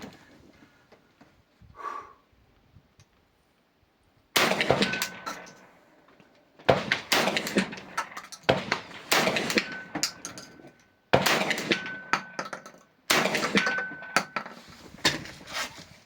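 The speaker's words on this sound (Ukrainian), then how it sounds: "з п'яти пострілів у нас було 4 влучання" Rifle shots fired with Kontarev bullets and a paradox muzzle attachment ring off a steel 155 mm shell blank, five sharp bursts with ringing metallic decays, the first after a near-silent lead-in.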